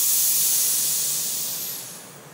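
Air hissing into a pressed vacuum food container, a loud steady hiss that starts strongly and gradually fades.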